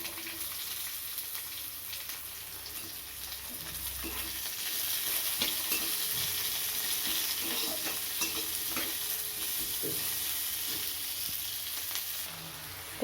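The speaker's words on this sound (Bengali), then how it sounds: "এবার দিয়ে দেবো পেঁয়াজ।" Onion fries in a little oil with dried red chilli, panch phoron and black cumin for an egg tarka: a steady, moderately quiet sizzle with occasional stirring scrapes.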